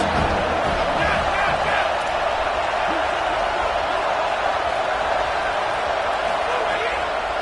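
Stadium crowd at a football game roaring for the defense on a third down, a dense sustained wash of cheering and noise that fills the whole stretch while a commentator talks over it.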